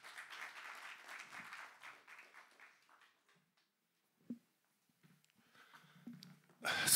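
Audience applause welcoming a municipal councillor to the podium at a new-technologies trade fair, a steady clapping crowd for about three seconds that thins out and fades, followed by faint scattered noises and a sudden loud burst at the end.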